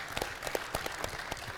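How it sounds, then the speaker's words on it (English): Light audience applause, a thin scattering of claps, faint and fairly distant throughout a short stretch. "how about a round of applause for that?"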